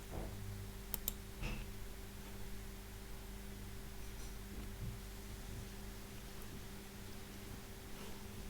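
A few sharp computer mouse clicks come early, near the one- and one-and-a-half-second marks, over a faint electrical hum and hiss, then the rest is quiet background.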